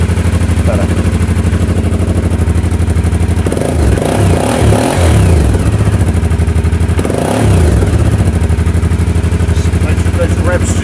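An Aprilia Shiver motorcycle idles loudly nearby, then is revved twice in sharp bursts that drop back quickly to a rumbling idle.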